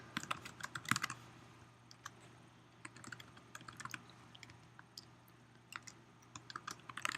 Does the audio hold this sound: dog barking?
no